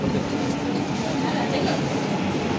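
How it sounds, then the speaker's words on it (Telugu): The Bhubaneswar–Tirupati weekly superfast express rumbles steadily alongside a station platform, a dense continuous roar of wheels and carriages close by, with a voice faintly present. "ప్లాట్ఫామ్ నెంబర్ 2 వచ్చేసింది మన ట్రైన్."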